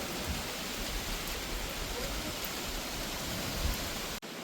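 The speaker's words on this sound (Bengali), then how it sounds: "বেশি বৃষ্টি হয়নি, অল্প বৃষ্টি হয়েছে" Light rain falls over a wet farmyard during a sudden windy storm, a steady, even hiss of drops filling the whole stretch at moderate level, with no talking.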